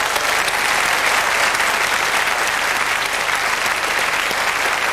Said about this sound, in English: So a round of applause for Shirley, please.